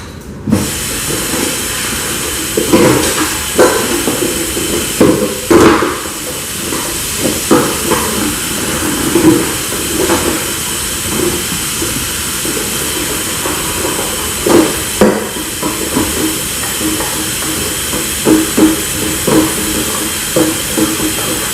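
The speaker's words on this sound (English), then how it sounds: "let me just wash this bowl real quick" A bowl is washed at a kitchen sink with a steady hiss of running water that carries on throughout, broken by scattered clinks and knocks of dish against basin, close and fairly loud, with no talking.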